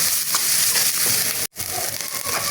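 Ginger, garlic and cumin paste sautéing in a pan, giving a steady close sizzle with soft scraping and stirring throughout and one brief pause partway through.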